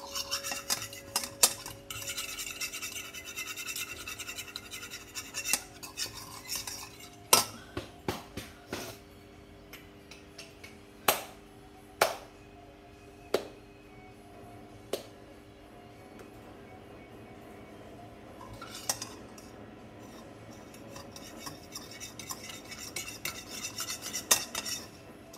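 Noodles are stirred in a pot with repeated metal-on-metal scrapes and sharp clinks of a utensil against the pot, scattered across a long stretch over a low background hum, close and moderately quiet.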